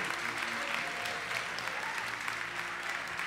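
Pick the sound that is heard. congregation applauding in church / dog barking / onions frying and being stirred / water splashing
congregation applauding in church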